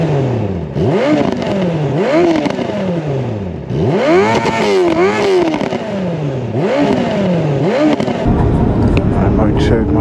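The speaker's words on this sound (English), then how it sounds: "Over 150 bikes." A large pack of over 150 motorcycles on a Sunday slow group ride, engines revving up and down in repeated rising and falling sweeps as bikes pass close by, loud and continuous, with voices talking over the roar.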